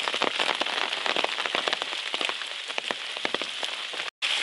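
Rain falls steadily on the rocky, rooty Appalachian Trail in the wilderness, dense patter of drops striking nearby surfaces, with a brief cut-out near the end and no voices.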